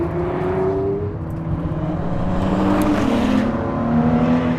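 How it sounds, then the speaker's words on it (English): Ford GT's twin-turbo EcoBoost V6 drones loudly and steadily from inside the cabin, its low engine note rising and settling as the car accelerates, with no talk over it. "The engine, this EcoBoost twin turbo V6."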